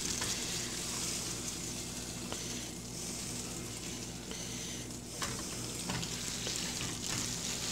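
Hamburger steak sizzles steadily in a hot pan after being flipped, a loud, continuous frying hiss with faint scraping, and no talk over it.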